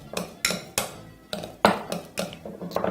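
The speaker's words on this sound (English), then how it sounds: "all you need now is just to start mashing through with your potato masher" A potato masher pressing through bananas in a bowl for muffin batter gives a run of about nine soft, close thuds and squelches with faint clinks of metal against the dish, repeated at a steady pace with no talk.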